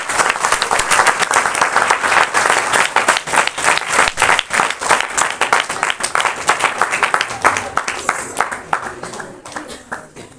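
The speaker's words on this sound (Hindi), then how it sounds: "ताली बजाएं प्रभु को।" A church congregation at a Christmas worship service claps together, a dense, lively burst of applause that stays steady and loud before thinning slightly near the end.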